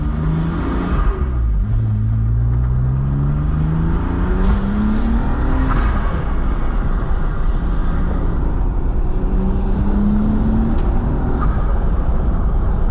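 A supercharged BMW E36 M3 engine pulls hard under about five pounds of boost, its loud, steady drone climbing in pitch through repeated rising sweeps as it accelerates, with no talking over it.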